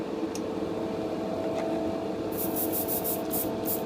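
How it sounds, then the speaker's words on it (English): An air compressor blower runs for spraying a Pledge floor-finish gloss coat, a loud, steady broadband rush with a low hum underneath, close and continuous, with a few soft pulses toward the end. "let me turn on the blower"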